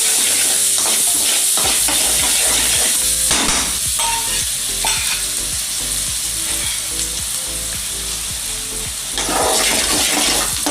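Finely chopped onion frying in a pan with asafoetida for a whole okra curry, a loud, close, continuous sizzle with rhythmic stirring scrapes and clanks.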